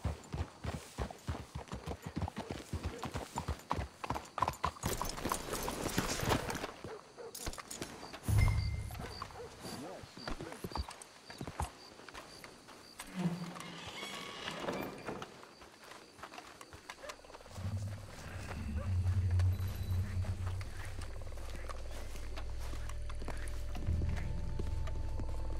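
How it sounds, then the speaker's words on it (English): Horses in the video game Red Dead Redemption 2 clip-clop at a steady walking pace, fairly close, with a low rumbling ambience and scattered clatter; no voices. "Let's hitch your horses up ahead."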